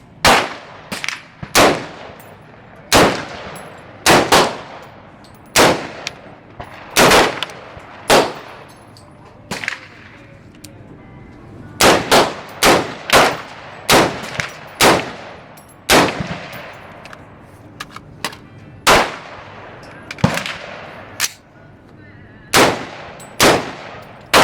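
A Ruger SR556 AR15 rifle fires close by, sending sharp, ringing cracks in uneven runs of single shots and quick strings, with short pauses and quiet gaps between them.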